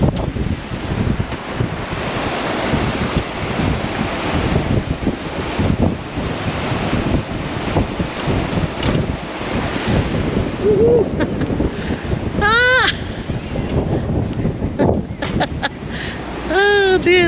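Strong gusts buffet the microphone in a steady roar over rushing sea and surf on the deck of the cruise ship Queen Anne, with brief exclamations from people.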